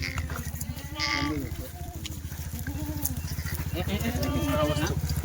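Kathewadi goats unloaded from a truck bleat repeatedly over a steady low engine drone, several overlapping calls rising and falling close by.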